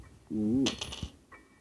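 Key thrown and dropping in the horror game Granny, a short bright metallic clink with a quick bounce after a brief vocal sound, heard close and faint.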